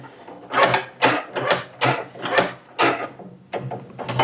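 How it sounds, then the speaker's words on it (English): The control lever on a Craftsman 24-inch snowthrower is worked back and forth, shifting the pulley plate and giving a series of about nine sharp metallic clunks and ratcheting clicks, close and without voices. "This lever raises, moves the pulley or the plate."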